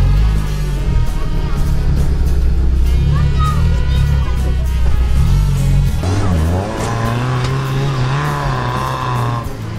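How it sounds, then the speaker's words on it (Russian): Lada Niva 4x4 driving hard off-road over rough, bumpy ground, engine loud and close, straining and revving as it bounces and loses speed, with a voice talking over it. "Машина прыгает, теряет скорость."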